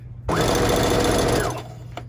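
A sewing machine stitches a pouch with a clear vinyl window, running steadily at close range for about a second and a quarter before stopping, with no talking.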